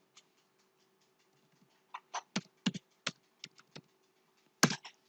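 Computer keyboard keys are tapped quietly for program input, with a few isolated clicks and then a short irregular burst of keystrokes ending in a firmer press.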